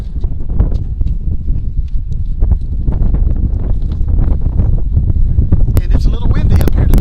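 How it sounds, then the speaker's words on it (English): Wind buffets a microphone at an outdoor high school JV football game with a constant, loud rumbling roar, and a voice talks faintly underneath it. "it's a little windy up here today"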